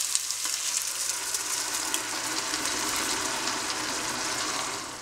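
Blended tomatoes hit tender, lightly browned onions in a hot pan for a vegan chickpea spinach stew, giving a loud, steady broadband sizzle that holds for the whole stretch with faint crackles, no voices.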